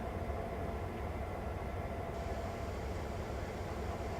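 Train rolling in a train simulator video game, moving away from parked rolling stock: a steady, continuous low rumble of rail running with even broadband noise throughout, no voices.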